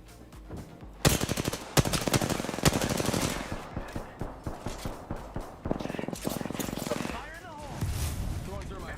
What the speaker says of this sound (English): Start shots fired and they're hitting me.